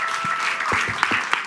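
Audience applause for round-table panelists called up for a group photo, a dense burst of clapping from a room full of people with sharper individual claps popping out near the end.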